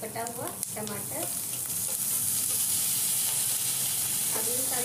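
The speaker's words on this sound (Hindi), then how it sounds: "अब जाएगा हमारा कटा हुआ टमाटर।" Chopped tomato drops into a hot frying pan while masala Maggi is cooked, giving a loud, steady sizzle with scraping stirring strokes throughout.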